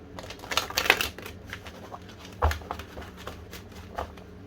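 Tarot cards riffle and slap together in short bursts, a brief shuffle followed by a few softer taps against a quiet room.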